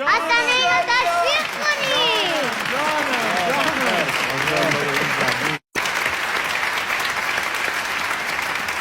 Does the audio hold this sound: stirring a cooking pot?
no